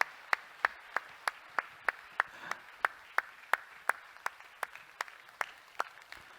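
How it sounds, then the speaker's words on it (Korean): Single claps or a thin smattering of applause from a church audience, sounding as sharp, evenly spaced hand claps at a steady rhythm, fairly faint with no talk over them. "우리 들어가실 때까지 박수 계속 쳐주시죠"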